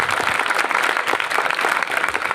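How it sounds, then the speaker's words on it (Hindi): Loud audience applause for a teacher at a public school event in Azamgarh, a dense, energetic crowd clapping with a slightly pulsing rhythm, close and sustained from start to finish. "सर के लिए एक बार जोरदार तालियां हो जानी चाहिए।"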